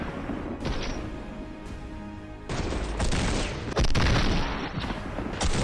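Gunfire in the video game Fortnite, dense bursts of rapid shots and heavy booms rolling together loud and close, with sharp volleys kicking in over a continuous roar.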